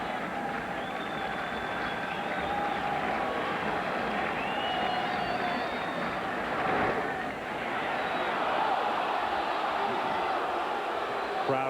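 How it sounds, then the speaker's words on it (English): A baseball stadium crowd at a 1995 NLCS playoff game between the Braves and Reds lets out a broad, sustained moan, a dense wash of many voices at moderate distance with a brief swell midway. "Crowd moans."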